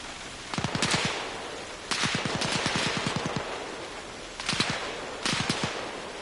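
Machine gun nest firing in the game Arma Reforger, several rapid bursts of sharp, evenly spaced shots separated by short pauses, loud and fairly close.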